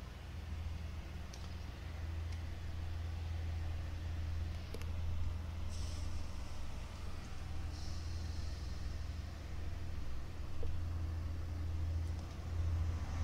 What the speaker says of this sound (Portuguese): Esperando o caminhão passar.